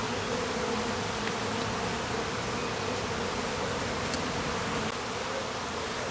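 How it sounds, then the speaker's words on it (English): Swarm of honey bees buzzing loudly and steadily close around the camera during a hive removal, a dense continuous drone with no talking. "Bees are already on the camera already."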